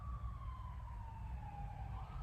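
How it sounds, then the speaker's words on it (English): A distant siren wails in a slow, gradually falling tone over a low, steady traffic rumble. "you hear those sirens?"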